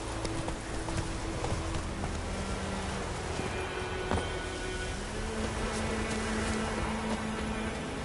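Horse hooves clip-clopping steadily as Geralt rides in The Witcher 3: Wild Hunt, an even trotting rhythm close by over a constant background of outdoor ambience.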